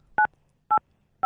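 Three evenly spaced, crisp telephone keypad tones ring out alone as a phone number is dialed, each a short two-pitch beep separated by silence.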